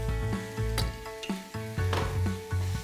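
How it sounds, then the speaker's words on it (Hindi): Chopped green chillies sizzle in a pan of hot oil for dry matar masala, a short crackling fry with rhythmic stirring or tossing clatter in bursts over a low background tone. "अब ये हरी मिर्च गई यहां,"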